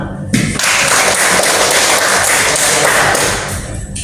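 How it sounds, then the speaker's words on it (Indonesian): Classroom applause from a group of students, a dense burst of clapping that starts abruptly, holds steady and loud for about three seconds, then tapers off near the end. "Tepuk tangan lagi untuk kita semua"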